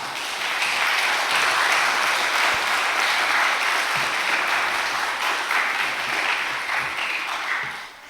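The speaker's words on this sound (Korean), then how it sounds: "우리 목사님 따뜻한 마음으로 박수로 환영하시겠습니다" A Korean church congregation warmly applauds in welcome of a visiting missionary guest speaker, a full, sustained burst of many clapping hands that tapers off at the end.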